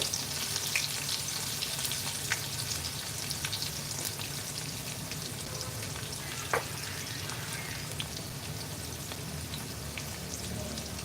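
Half an onion and cumin seeds frying in a pan for kadhi pakoda, a dense, even crackle and hiss that runs on steadily with occasional soft spatula knocks, close and fairly quiet with nobody talking.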